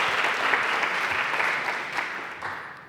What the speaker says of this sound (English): Let's have a round of applause for Mr. Snyder.